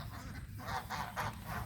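Farmyard geese honking close by, a quick run of three or four loud nasal honks in a steady rhythm, with no talking.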